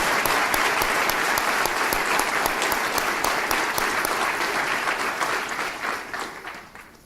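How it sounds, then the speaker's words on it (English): Sustained audience applause fills a large conference hall at a tribal nations gathering, steady dense clapping throughout that fades toward the end. "Could we just give those young men for their courage a round of applause?"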